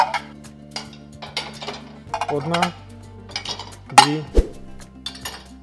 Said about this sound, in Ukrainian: Далі вкладаю тарілки під першу.